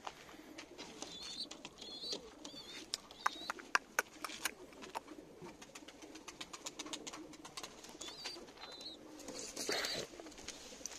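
Pigeons in a loft cooing softly, a mother with her single chick, giving repeated low throaty coos at a middle distance among scattered clicks, scuffles and rustling, with no talking.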